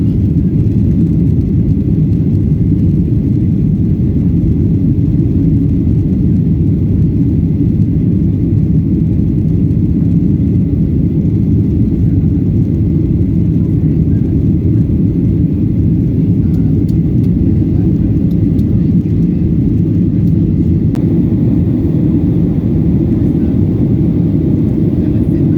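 Inside a Malaysia Airlines Boeing 737 with Sky Interior flying from Kuala Lumpur to Hong Kong, a loud, steady low cabin roar drones on unbroken in flight after takeoff.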